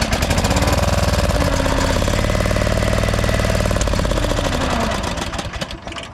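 A 1999 Craftsman lawn tractor engine, run with a jump pack at mid-throttle and on choke, cranks and catches, then runs in a loud, rough, rapid chugging beat up close. Near the end it sputters and the beat turns uneven.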